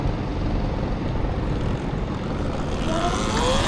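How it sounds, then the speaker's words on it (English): Helicopter flying overhead above a downtown Los Angeles street, a loud, steady rotor and engine drone that fills the clip without pause, with no talking. "Got the helicopter above."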